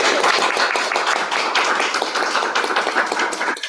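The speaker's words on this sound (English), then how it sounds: "can we just give another round of applause?" Audience applause after a talk, dense continuous clapping from many people close by for a few seconds before it trails off.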